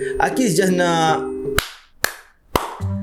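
After a stretch of voice and music, one person claps three times: three sharp, separate claps spaced about half a second apart, each loud and close, with silence between them.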